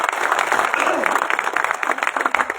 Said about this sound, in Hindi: मुशायरा कमेटी के लिए तालियां बजाएं दोस्तों